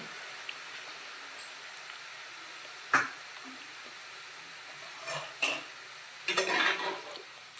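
Karapusa dough frying in hot oil, a steady soft sizzle with a few sharp clinks and scrapes of a utensil against the pan, close and with no talk.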